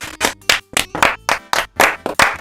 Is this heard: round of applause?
yes